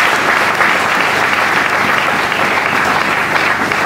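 A church congregation at an evangelistic conference applauds loudly and steadily, a dense continuous wash of clapping that fills the whole stretch without any break.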